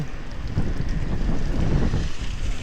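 Steady wind buffets the microphone from the front with a loud, rumbling roar that continues throughout.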